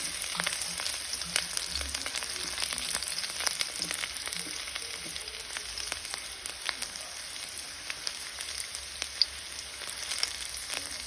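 Onions sautéing in a hot pan for sisig give a steady, close sizzle with a dense crackle running throughout, with no voices.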